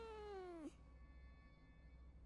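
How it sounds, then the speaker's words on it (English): A cat in the horror video game Fears to Fathom gives a single clear meow with a falling pitch lasting about half a second, followed by quiet room tone. "Oh, it's a cat."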